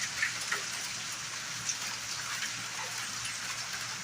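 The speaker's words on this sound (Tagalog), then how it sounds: "Napakalakas ng ulan." Heavy rain pours steadily in Saudi Arabia, a dense, even hiss of falling water with occasional closer drops, no voices.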